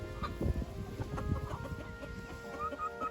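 A rooster and silky hens cluck close by in a village greenhouse, giving soft, continuous chatter with a few higher calls. A voice says a couple of brief words.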